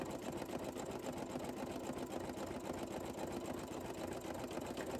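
A single needle embroidery machine stitches glitter canvas vinyl for basketball shoe charms, giving a steady, fast mechanical whirr and rapid needle chatter that holds at an even level without a break.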